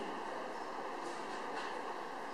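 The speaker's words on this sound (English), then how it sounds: "train" A train rolls past as one steady, broad rumbling roar of wheels and carriages, loud and close, with no break over the short stretch.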